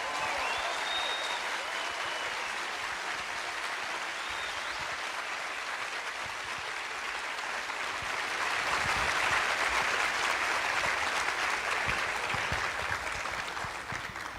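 A large audience at the Bogotá book fair (Filbo) applauds author JJ Benítez: steady, dense clapping that holds for about fourteen seconds and swells slightly louder toward the end, with no voices over it.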